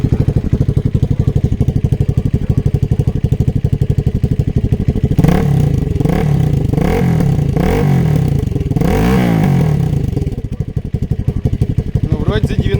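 A Motoland Legend motorcycle with a 172FMM engine, four-valve head and stock muffler idles with a loud, steady thumping pulse, then revs up in several rising and falling bursts before dropping back to idle, close by.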